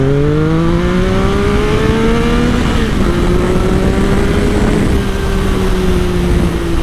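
Triumph Sprint ST 955i motorcycle accelerating hard at wide-open throttle, the loud engine note climbing steadily through the gear with a sustained rising whine and heavy wind rush, no voices.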